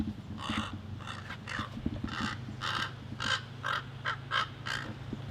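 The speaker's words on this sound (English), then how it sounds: "This crow just sounds really funny, so I'm just gonna let him stay" A large crow or raven calls outdoors, a series of about nine harsh, rasping caws in uneven bursts over a steady low background hum, fairly close and loud.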